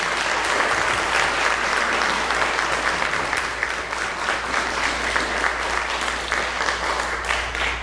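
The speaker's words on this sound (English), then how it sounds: "Give them a round of applause" Steady, dense audience applause fills the room after an open rehearsal of a composition, holding at an even loud level for the whole stretch without pause.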